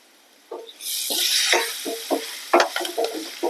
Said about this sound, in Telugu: వెంటనే ఒక అర స్పూన్ జీలకర్ర పొడి, ఒక అర స్పూన్ మిరియాల పొడి వేసుకొని వేయించుకోవాలి